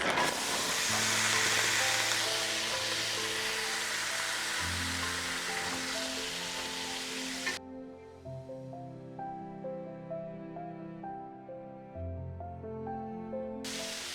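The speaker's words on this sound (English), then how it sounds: "As soon as the garlic is fragrant, I add in a bag of frozen green beans." Frozen green beans sizzling in a pan with garlic, a loud bright hiss that starts strong and settles, heard under background music.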